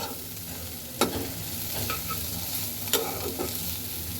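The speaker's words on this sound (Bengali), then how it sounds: "তো আমি এখন মাছটাকে দুই থেকে তিন মিনিট একটু ভেজে নেব" Fish shallow-frying in a pan with a steady close sizzle, broken by a few sharp scraping stirs of a spatula, and no voices.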